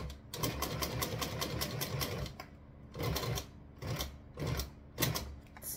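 A sewing machine stitches a leather trifold wallet in rapid mechanical bursts, running steadily, then pausing and restarting several times as it works slowly through bulky layers, close and loud with no speech.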